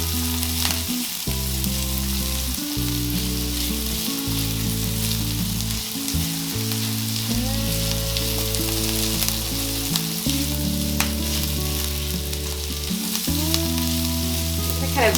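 Carrots and other vegetables for a shepherd's pie sauté in a pan, giving a loud, continuous close sizzle with occasional stirring scrapes and no voices.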